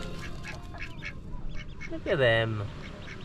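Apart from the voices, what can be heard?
ducklings quacking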